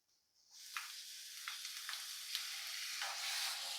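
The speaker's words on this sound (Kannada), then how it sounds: "ಅದು ಕೂಡ ಆ್ಯಡ್ ಮಾಡಿ ಫ್ರೈ ಮಾಡ್ಕೊಬೇಕು ಸ್ವಲ್ಪ ಹೊತ್ತು." Chopped tomato is added to onion sizzling in a frying pan while making a paneer cheese burger: quiet, near, steady frying hiss that starts after a short silence, with faint stirring scrapes.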